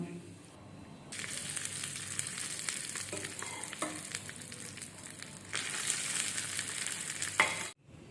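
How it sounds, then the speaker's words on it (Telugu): A tempering of cumin and curry leaves sizzles in hot oil for coriander tomato chutney, a steady close crackling hiss that flares louder partway through, then cuts off abruptly near the end. "తాలింపు వేగింది స్టవ్ ఆఫ్ చేసుకొని దీన్ని ముందుగా రెడీ చేసుకున్న పచ్చళ్ళలో వేసుకుందాం"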